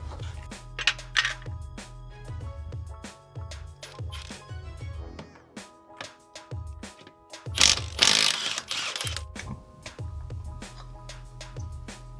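A 3/8 socket ratchet tightens NISMO forged steel lug nuts on a Nissan 350Z, giving rapid close clicking in repeated short bursts and rhythmic strokes, with a few louder metallic clanks partway through.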